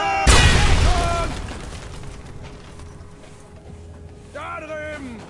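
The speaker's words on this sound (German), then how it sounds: "Granate!" A grenade blows up with a loud, close boom in the Sniper Elite V2 war shooter, and rumbling debris follows. Soldiers shout over it and keep calling out afterward.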